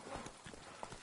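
Hooves of Roach, Geralt's horse in The Witcher, clatter at a gallop in a brief burst of rapid, close clip-clops.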